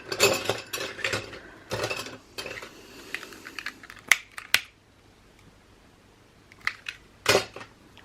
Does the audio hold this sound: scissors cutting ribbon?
yes